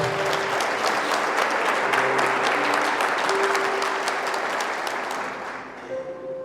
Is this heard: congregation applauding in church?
yes